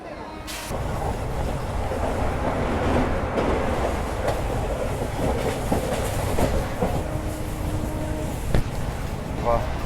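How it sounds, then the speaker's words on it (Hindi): A train rolls along a railway with steady clickety-clack and rumble of railcars, continuous and fairly close, with voices talking over it. "तो इस ट्रेन को भले ही हमने पीछे छोड़ दिया, लेकिन मुझे लगता है कि आगे चल के ये पक्का से ओवरटेक करने वाली है।"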